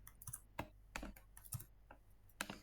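Typing on a computer keyboard, a quiet, close run of irregular key clicks with uneven gaps between presses, heard alone with no talking.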